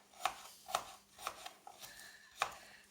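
A knife chopping a red pepper into small cubes on a red board, four or five crisp, evenly spaced knocks close up, with quiet rubbing between strokes.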